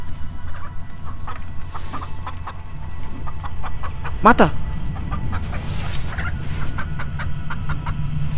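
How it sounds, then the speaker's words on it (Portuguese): A chicken clucks in a video game, a series of short, regular clucks over a steady low ambient drone, with someone talking over part of it. "Uma galinha."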